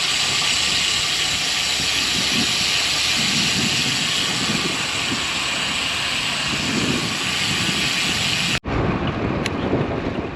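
Strong gusty wind roars across the microphone while cycling on a suburban road into a headwind, a steady loud buffeting rush that drops out briefly near the end before resuming.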